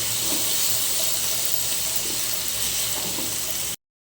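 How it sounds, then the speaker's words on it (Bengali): Potatoes frying in oil give off an even, close hiss that holds steady and then cuts off suddenly near the end. "রান্নার সময় এই যে শো যে শব্দটা হয় না এটা আমার ভীষণ ভালো লাগে"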